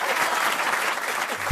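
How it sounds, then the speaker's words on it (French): Studio audience applauding for a moment on a French radio comedy panel show, steady dense clapping throughout with a brief thump near the end. "On peut quand même l'applaudir."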